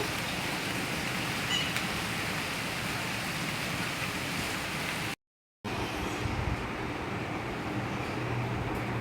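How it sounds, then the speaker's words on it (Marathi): Light drizzling rain falls as a soft, even hiss close by, continuous apart from a half-second break in the middle. "वा मस्त रिमझिम पाऊस पडत आहे"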